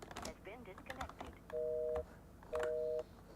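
Video game telephone audio: a quick run of dial tones, then two long, steady disconnected tones about half a second each with a short gap between, all clear and close.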